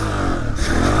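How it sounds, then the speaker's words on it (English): A Honda CRF300F trail bike with a 6-speed transmission runs in third gear at slow speed, its engine note steady and close with a slight rise in revs toward the end, with no talk over it. "You can get away with using 3rd gear like I am now, even at slow speeds"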